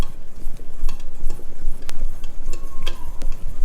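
A whisk beats milk and eggs into flour for a berry clafoutis batter, making rapid, rhythmic close-up clicking and tapping against the bowl with a soft wet swish underneath, loud and continuous.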